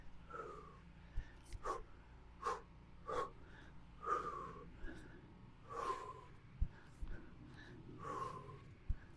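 Heavy, rhythmic breathing during a kettlebell workout, about a dozen close, forceful exhales and gasps spaced roughly half a second to a second apart, with faint thuds underneath.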